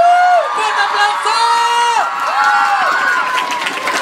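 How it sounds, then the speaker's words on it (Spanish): A crowd at a TMDay Mallorca 2018 event cheers with loud, sustained whoops and rising and falling voices over about four seconds, sounding close and dense throughout. "¡Fuerte aplauso!"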